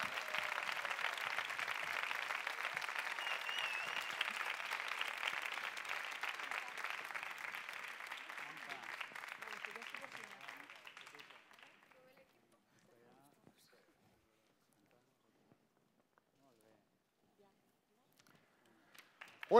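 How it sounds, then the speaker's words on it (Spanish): An audience at a hair salon awards night applauds warmly, the clapping loud at first and then thinning out and fading to near silence. "Un aplauso para todos ellos."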